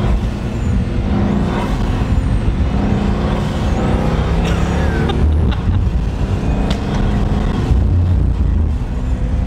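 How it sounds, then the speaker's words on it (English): A loud Koenigsegg Agera engine roars continuously from inside the car, with faint turbo hissing and whooshing bursts over the rumble. "beats the turbo sounds on this thing"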